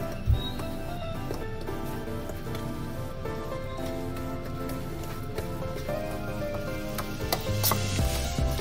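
Strawberry cake batter is stirred steadily in a bowl, a continuous close, wet swishing texture with small clicks, faint background music underneath, no talking.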